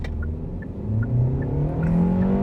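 Kia K4 in sport mode pulls away with the engine climbing steadily in pitch, a moderate continuous rising drone heard from inside the car with no talking.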